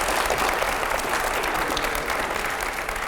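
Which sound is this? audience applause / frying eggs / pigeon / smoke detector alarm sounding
audience applause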